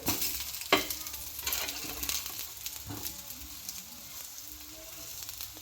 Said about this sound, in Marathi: या प्रकारे मित्रांनो पूर्ण वांगे चांगले रोस्ट करून घ्यायचे दोन्ही साईडनी।